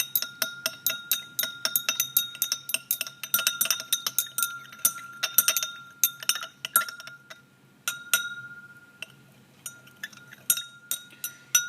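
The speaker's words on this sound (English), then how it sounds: "Got a glass stirring rod here. I'm just going to be, as the demo's name implies, mixing it up." Glass stirring rod mixing syrup into water in a drinking glass, producing a long run of bright clinks and rattles against the glass, rhythmic and close, with short pauses between bursts.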